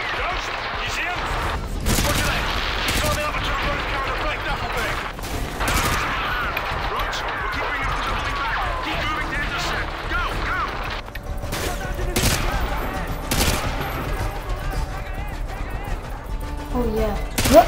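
Heavy gunfire in Call of Duty: Modern Warfare 2, a militia firefight with rapid bursts and sharp shots ringing out continuously across a dense battle mix, with voices talking over it.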